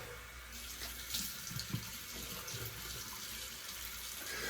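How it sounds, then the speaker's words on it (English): Cold water pours from a bathroom faucet into the sink for a face rinse, a steady close rushing stream broken by a few splashes as hands dip into it. "Now I turn on the cold water."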